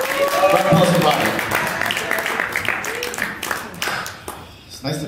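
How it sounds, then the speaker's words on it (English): Comedy club audience applauding for a comedian, lively clapping mixed with cheers and whoops at the start, thinning out and fading into scattered claps and crowd noise. "Round of applause for Bobby."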